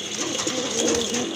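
Big, light-coloured pigeons of a breeding pair cooing in a short burst of soft, repeated coos, close by and unaccompanied by speech.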